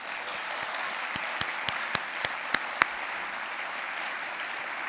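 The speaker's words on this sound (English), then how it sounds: "Let's give that a round of applause." An audience at the NEH Jefferson Lecture in the Humanities gives a round of applause, a soft, steady patter of many hands heard from a distance, with a few sharper, louder claps standing out near the middle.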